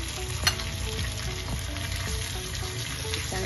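Coriander and spicy green chillies sautéing in hot oil as a tempering for dhokla, a steady close sizzle with a few sharp pops and soft stirring scrapes throughout.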